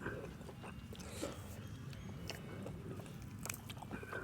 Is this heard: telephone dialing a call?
no